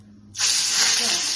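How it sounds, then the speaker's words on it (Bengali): Hilsa fish pieces hit hot oil and burst into a loud, steady sizzling hiss that starts abruptly and holds close up. "মাছগুলোকে হালকা একটু ফ্রাই করব।"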